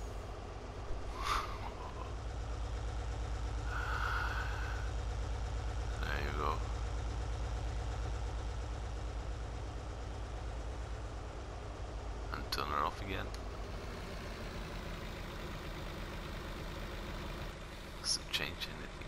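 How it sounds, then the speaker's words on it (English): A wood crusher shredder engine in Farming Simulator 19 runs steadily behind a MAN TGX semi, a low continuous diesel drone with a few brief hisses and clunks, heard at moderate level throughout. "let's unfold the wood crusher, pipe out, and when I start up the shredder now"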